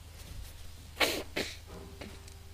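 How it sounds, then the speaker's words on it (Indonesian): A person with a cold lets out two sharp, loud coughs close by, the second slightly weaker, against a faint low background hum. "Sorry kalau masih pilek-pilek, batuk-batuk, mohon maklum ya."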